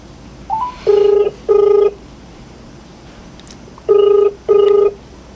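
A landline telephone number is dialed as four distinct touch-tone beeps in two pairs, clear and close over a faint background hiss.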